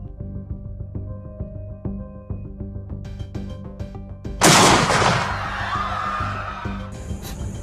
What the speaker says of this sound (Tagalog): Nagkaroon po ng putukan dito sa Maygulod, Labak.